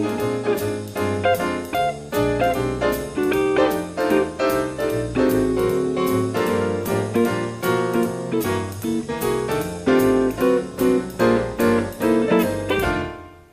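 Jazz rhythm section with piano and guitar comping at once without listening to each other, busy, clashing chords struck in irregular, overlapping bursts over a walking pulse, loud and continuous until it stops abruptly.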